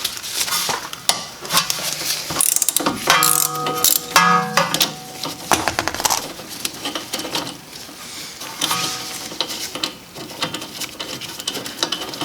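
A ratchet works on a 12mm caliper bolt during a rear brake job on a Honda Civic, giving bursts of rapid metallic clicking and clanks of tools that are close, uneven and broken by short pauses.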